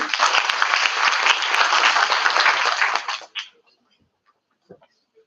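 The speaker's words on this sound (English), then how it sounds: "A round of applause, please." Audience at an academic workshop on journal writing and publishing gives a dense round of applause that stops abruptly after about three seconds, followed by near silence with a few faint stray sounds.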